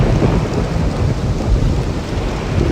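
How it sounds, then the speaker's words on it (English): Heavy rain and rumbling thunder in the realMyst video game, a loud, dense downpour with low rolling thunder and no talk. "But it can't stop raining"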